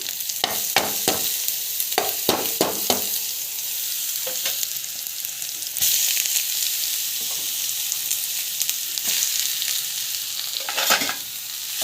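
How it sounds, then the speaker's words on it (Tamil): Chana dal with small onions and garlic being sautéed in a pan, a steady high sizzle with repeated stirring scrapes clustered early and again near the end, no talking. "ஸோ கடலைப்பருப்பு நல்லா வந்து வதக்கிடுவாங்க."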